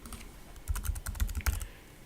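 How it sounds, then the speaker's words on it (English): Quick bursts of keystrokes on a computer keyboard, close and fairly quiet, with a brief pause before a denser flurry of typing. "As we start typing in software"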